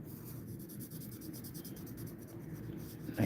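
Pencil scratching across paper while sketching quick action poses, a steady soft rasping of rapid strokes, close and fairly quiet, ending with a slightly louder scrape.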